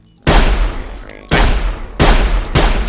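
Shotgun blasts in the game Sir, You Are Being Hunted: four loud, sharp booms, close and alone, spaced roughly two-thirds of a second apart, each with a short ringing tail.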